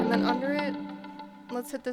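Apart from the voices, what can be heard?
None of the usual background noises is heard.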